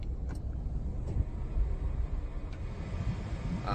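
A steady broadband whoosh of a 2023 Perodua Axia's air conditioning blower on fan speed 2, constant and fairly loud, with faint interior clicks.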